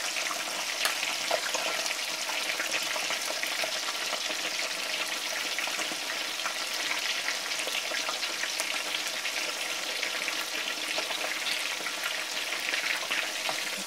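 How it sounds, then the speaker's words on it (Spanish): Steady, dense sizzling of onion frying in a pan, a continuous crackling hiss throughout with no talking. "Echamos la cebolla, que se nos vaya haciendo"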